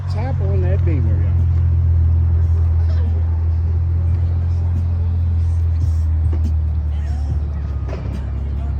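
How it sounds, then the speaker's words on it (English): At a car show, a BMW slowly rolls in with a low, steady engine rumble close by, while someone talks over it throughout. "Come on up there, get that slow roll with that Beamer."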